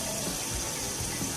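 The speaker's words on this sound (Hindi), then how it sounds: "थोड़ा सा इसमें पानी ऐड कर लेते हैं।" Water poured into a pan of chicken liver being cooked, a steady hissing splash and trickle running continuously at close range.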